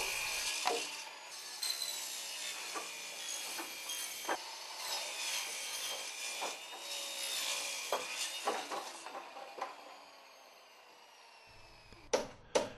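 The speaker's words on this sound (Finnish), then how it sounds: "Sahaa ponttilaudat poikki siten, että lauta jää muutaman sentin yli räystäästä." Rhythmic saw strokes rasping through tongue-and-groove roof boards at the eaves, a steady back-and-forth at close range, ending with a couple of sharp knocks.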